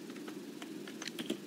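Typing on a computer keyboard, a quick soft patter of close key clicks over a quiet background hum, alone without talk.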